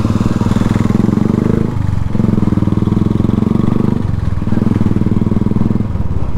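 A motorcycle engine runs steadily while riding along a busy, congested ring road in Ranchi, Jharkhand, with a continuous close throbbing drone that dips briefly between stretches of throttle.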